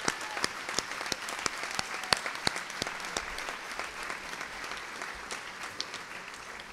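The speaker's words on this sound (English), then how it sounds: "if they could rise so we give them a round of applause" Audience applause at a bar association annual meeting banquet, a sustained, fairly faint and distant round of clapping from a large seated crowd with distinct individual claps standing out.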